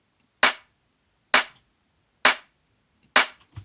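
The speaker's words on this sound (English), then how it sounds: "just to help the clap sound a little bit more natural" Four sharp, punchy clap hits spaced about a second apart, each with a short ambient reverb tail and soft clipping, loud and isolated with no talking.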